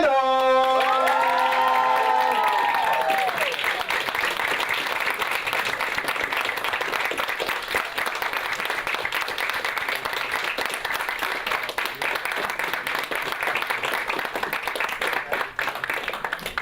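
An audience at an inner-city address greets the founder and president of an organization with loud sustained applause and cheering, whoops and shouts rising at the start over dense clapping that continues throughout.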